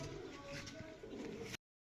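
Pigeons coo softly and close by for a brief moment over light background noise, then the sound cuts off abruptly.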